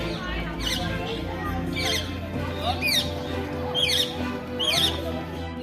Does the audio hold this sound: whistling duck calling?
yes